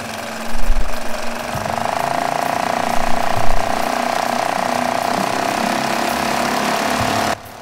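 A Suzuki 2.5 HP outboard motor on a Pelican Bass Raider 10e boat, run at three-quarter throttle: a steady, loud buzzing drone with a rougher rev-up near the start, holding constant before cutting off abruptly.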